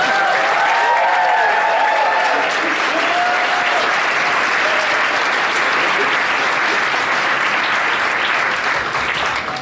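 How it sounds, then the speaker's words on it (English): Sustained, loud applause from a large audience at an MIT Interphase 50th anniversary event, thanking the organizing team; dense, even clapping fills the whole stretch, with a voice briefly heard near the start. "Can we give the OME team a huge round of applause?"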